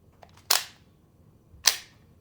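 Two sharp hissing pops, about a second apart, as a CO2 cartridge is pre-pierced in a Byrna LE launcher set to safe, close and crisp in an otherwise quiet space.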